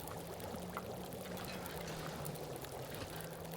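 Water pouring steadily in the survival video game The Long Dark, a continuous, even splashing stream with no pauses and a faint low hum beneath it.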